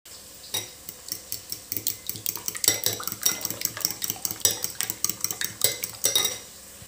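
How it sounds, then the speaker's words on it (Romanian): Eggs beaten in a bowl with a fork or whisk for a quick breakfast, a fast, steady run of clinking taps against the bowl's side, close and fairly loud, with no talking. "Între timp, până se face ceapa, noi vom începe să batem ouăle."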